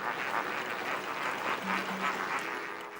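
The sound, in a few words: flock of pink flamingos at Lake Bogoria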